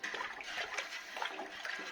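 Cold water poured steadily into a large container for elderflower kvass, a continuous splashing gush that stays fairly close and even with no talk over it.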